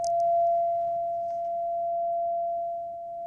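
A steady pure test tone plays from a single loudspeaker, constant in pitch and fairly even in level, heard alone for a few seconds with no talk.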